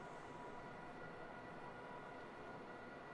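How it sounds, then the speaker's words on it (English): Passenger train passing in a train simulator game on the Riesa–Dresden line, a steady, even rumble and rolling hiss of railcars holding at the same level throughout with no voices. "That appears to be another passenger train."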